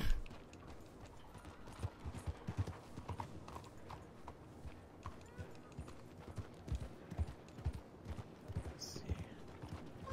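Horse hooves in the video game Red Dead Redemption 2 clip-clop steadily at an unhurried walking pace, with a soft background hum and an occasional faint rustle.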